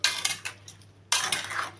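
A spoon scrapes and clinks against a metal pot while stirring Barhi date jam with sugar, in two bursts of close, bright metallic scraping separated by a short pause.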